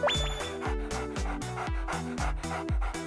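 A cartoon dog in an animated children's show barks in a quick run of about a dozen sharp, evenly spaced yaps, loud and close with no talking.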